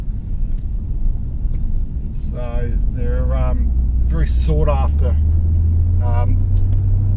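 A 1990 Mazda Eunos Cosmo with the 20B twin-turbo rotary engine drones steadily from inside the cabin while driving, a low continuous hum rising in the second half, with someone talking over it.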